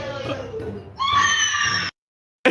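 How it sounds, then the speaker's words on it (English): A woman's loud, shrill scream from a replayed clip rises out of a noisy mix, holds for nearly a second, cuts to silence, then returns in a sudden burst. "Listen to the scream."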